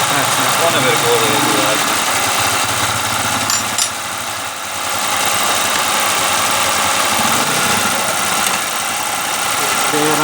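A Suzuki Mehran car engine idles loudly and steadily up close, a dense mechanical drone with rough vibration, and voices talk over it throughout.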